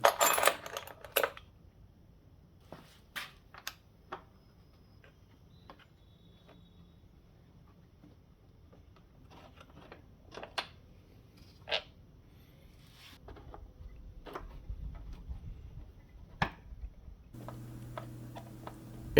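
Hook wrench turning the rear suspension preload adjuster on a Kawasaki Vulcan VN900: sparse metallic clicks and ticks spaced irregularly, a few sharper clanks, quiet and close, with a faint rustle near the end.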